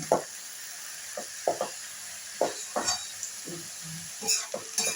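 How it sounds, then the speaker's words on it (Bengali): Cabbage curry with potatoes frying in a pan, a soft background sizzle punctuated by scattered scrapes and light knocks of a spoon against the pan, without speech. "এটা আমি ভেজে দিচ্ছি"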